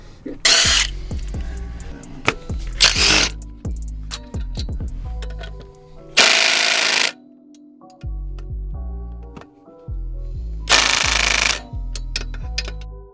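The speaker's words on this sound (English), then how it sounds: "So we'll unbolt the pressure plate, pull the clutch off, and then we'll pull the flywheel off" An impact gun or power tool undoes the clutch pressure plate bolts on an R32 Skyline GT-R: bursts of harsh, rattling hammering a second or so long, with stepped low whirring between them, loud and close, and about eight separate runs.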